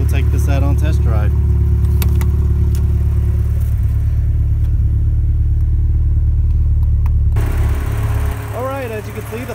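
A 1984 Porsche 944 engine idles steadily nearby with a constant low hum and cooling fans running, and someone talks over it throughout.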